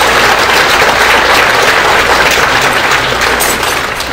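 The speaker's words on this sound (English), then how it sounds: "Let's give him a round of applause." Loud, dense applause fills a convention hall at a state Republican gathering, a sustained roar of many hands clapping without a break.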